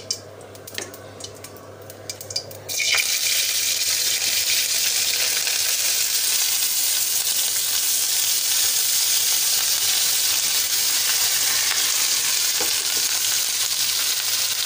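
Onions, tomato, green chilli and curry leaves sizzle loudly in hot oil for bread upma, a steady close frying hiss that starts after a brief quieter moment with faint utensil clinks.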